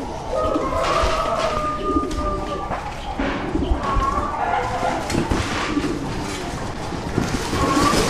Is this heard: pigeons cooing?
yes